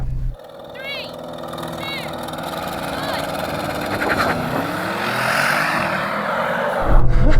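A drag race between an Audi RS6 Performance, a BMW M5 and an AMG E63s accelerating from the line: a loud, continuous engine roar builds steadily over several seconds and swells at the end.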